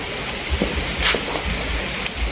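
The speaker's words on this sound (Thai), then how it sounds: "ฝนตกเด้อคุณผู้ชมอาจจะมีเสียงฝนรบกวนกันบ้างนะคะ" Evening rain falling outside a house, a steady patter of drops on surfaces with occasional louder splashes, continuous and fairly close.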